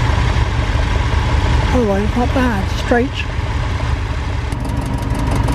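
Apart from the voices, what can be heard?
petrol tractor engine running at ploughing match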